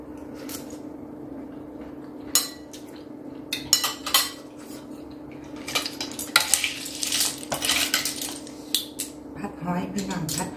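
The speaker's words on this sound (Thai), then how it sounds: "หอยพี่น้องผัดหอยลาย" Surf clams stir-fried in a pan, with repeated metallic clanks and scrapes of a utensil against the cookware and a light background sizzle, close by and irregular.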